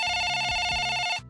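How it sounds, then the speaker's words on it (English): A shrill telephone in the film Midsommar rings in a continuous electronic trill with a pulsing rhythm, loud and close, under a low droning hum before the ring abruptly cuts off. "suddenly interrupted by the shrill ring of a phone as we cut to a row of suburban houses"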